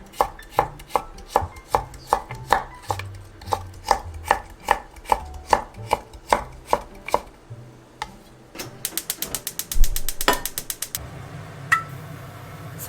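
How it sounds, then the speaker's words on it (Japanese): A knife cuts thick-peeled daikon radish skin into fine julienne strips on a cutting board, a steady, even run of crisp, close chops that turns into a faster, denser flurry near the end. "大根1/2の1本分の皮を全部細切りにしていきます"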